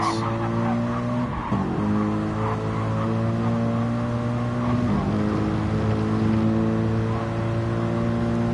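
Race car engines roar at Monza in a WEC endurance racing video game, a steady loud high-revving drone with two cars running side by side, pitch shifting briefly as gears change, no voices over it.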